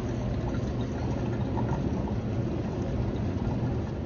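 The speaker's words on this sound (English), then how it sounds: "I prefer pouring with a very slow flow rate. As you can see with this kettle, my water stream is almost vertical." A slow, steady stream of hot water poured from a kettle over ground coffee in a pour-over brewer makes a continuous, even hiss and trickle with no talking.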